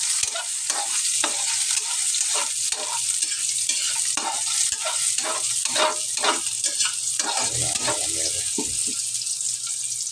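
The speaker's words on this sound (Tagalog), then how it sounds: "ginisa ko na yung bawang at saka sibuyas" Garlic and onion sautéing in a pan, with a constant loud sizzle and repeated scraping and stirring strokes close by, and no talk.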